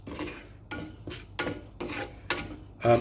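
Whole dry spices for a salmon curry get stirred and tossed in a hot frying pan. The scraping and rattling come in quick separate bursts, close and fairly quiet, with no talking.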